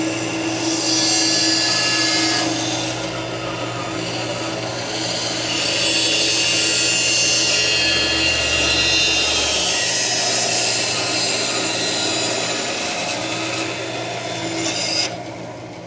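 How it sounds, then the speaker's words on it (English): A bandsaw cuts through a wooden spoon blank, giving a loud, steady rasping whine that holds for about fifteen seconds with slight shifts as the wood is fed, close up and with no talk. "let's take this over to the bandsaw."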